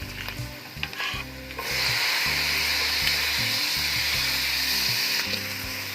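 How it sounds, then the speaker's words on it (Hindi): Tomatoes go into a pan of softened onions and sizzle loudly, with a stirring scrape at first and then a steady close frying hiss. "अब हम इसके अंदर टमाटर डाल देंगे।"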